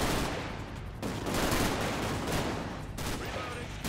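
Gunfire in the video game GTA 5, a dense, continuous rattle of shots at moderate distance with a couple of short breaks, fairly faint overall.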